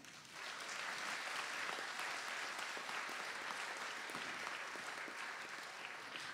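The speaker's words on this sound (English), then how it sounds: "which deserves more applause." Sustained audience applause at a stage performance by young girls, a dense steady clatter of many hands clapping that continues evenly throughout with no speech.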